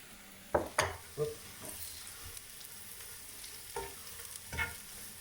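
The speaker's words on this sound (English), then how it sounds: "I'm actually going to start to add the mushrooms in now." Mushrooms tumble into a hot frying pan for a creamy mushroom pasta, giving a few sharp clatters and stirring scrapes over a low, steady sizzle that keeps going underneath.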